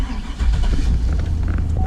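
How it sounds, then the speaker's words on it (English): A 2004 GMC Sierra truck engine cranks and catches, settling into a low, rough rumble that stays steady and close throughout. "See, I start the truck."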